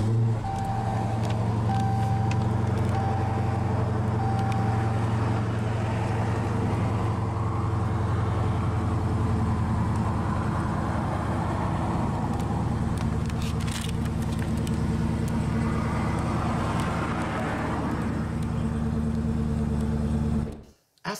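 A 2015 Dodge Challenger SRT Hellcat with push-button ignition settles into a steady, deep rumbling idle, a low continuous engine drone heard close up that cuts off abruptly at the end.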